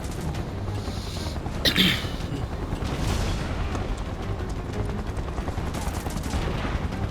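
Gunfire and explosive booms in the Final Fantasy VII video game, a steady barrage of shots with a sharp blast early on, continuous and loud over a rumbling game mix.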